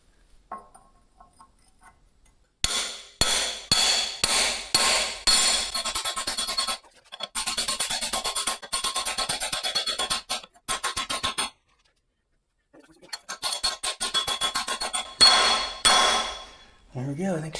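Sharp metallic hammer blows drive a new bushing into an excavator bucket mount, coming in quick rhythmic bursts separated by short pauses, loud and close.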